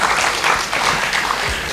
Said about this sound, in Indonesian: Kita sekali lagi tepuk tangan yang meriah